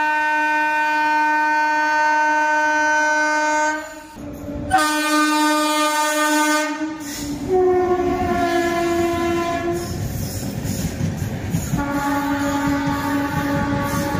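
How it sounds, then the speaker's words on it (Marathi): Non-stopping superfast express train sounding a long, loud horn as it passes the station platform, several sustained horn blasts with a brief gap, then rushing wheel and carriage rumble before the horn returns, heard close and without talk. "एक फास्ट गाडी आलेली आहे वाटतं इकडून, म्हणजे 2 नंबरच्या प्लॅटफॉर्मवरती न थांबणारी गाडी"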